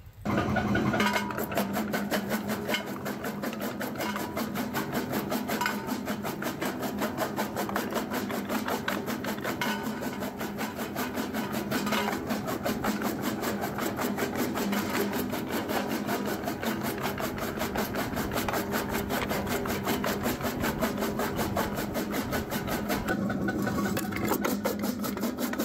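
A 6x10 jaw crusher grinds rock on its finest setting, a dense, continuous rasping churn with steady gritty crunching that stays loud and unbroken throughout.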